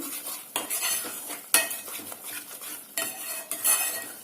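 Ginger chicken curry is stirred in a pan, with repeated metal scrapes and clinks of a spoon against the pan over a faint sizzle, close by and with no talk.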